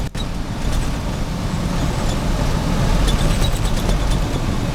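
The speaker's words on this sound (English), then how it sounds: "This is a water truck." A water truck drives over a rough washboard dirt road, its engine and rattling body giving a loud, steady rumble throughout.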